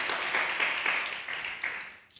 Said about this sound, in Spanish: Otro aplauso por acá.